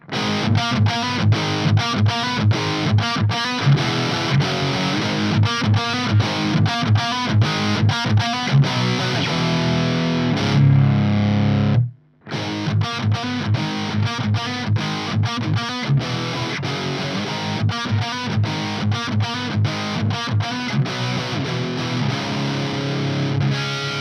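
Distorted electric guitar riffing through a Mesa Boogie Dual Rectifier tube amp set to silicon diodes and bold, loud chugging rhythmic chords with a brief pause midway before playing resumes.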